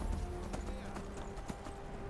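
Horse hooves clip-clopping at a steady walking pace in the Skyrim video game, close and continuous with game ambience underneath and no speech.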